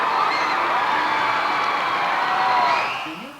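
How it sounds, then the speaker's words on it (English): A crowd of Al Gore supporters in Nashville, Tennessee cheers and whoops on election night, a loud, dense roar of many voices that holds steady and then tails off. "his supporters cheering when they heard on TV that the Democrats had taken Florida, Michigan, and Pennsylvania"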